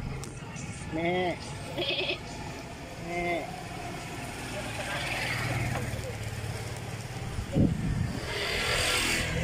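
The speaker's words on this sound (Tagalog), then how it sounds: "Nakabili na kami ng kambing." A goat bleating at a goat purchase in San Vicente, Baao, Camarines Sur: two wavering bleats close by, then idling engine rumble and background talk with a short thump.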